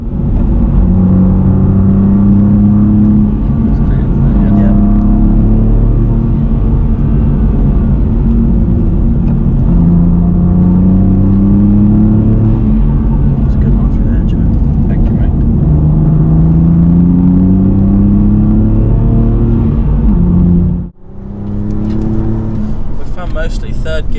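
A BMW M2 Competition engine drones steadily and loudly on a rally stage, pitch rising and falling through gear changes, cutting off abruptly near the end before resuming.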